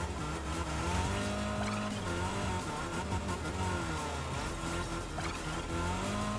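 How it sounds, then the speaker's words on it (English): Car in Fortnite Rocket Racing drifting at high speed, with a steady loud engine drone and layered tire squeal carrying through without a break. "No flipping, just straight drifting."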